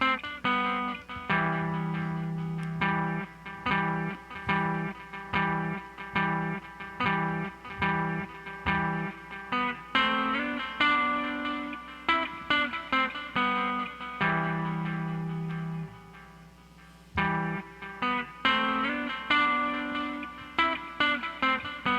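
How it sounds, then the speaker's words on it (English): A Roland P-6 sampler beat plays through a tube amp with reverb and delay, punchy repeating chopped hits and tonal stabs in a steady rhythmic pattern with distorted, echoing tails and brief pauses. "I like the reverb and delay on that"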